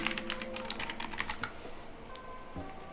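Quick clicks on a computer keyboard during Unity setup come in a rapid run of keystrokes for about a second and a half, then stop, leaving a faint steady hum.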